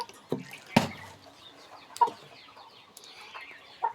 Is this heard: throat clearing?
no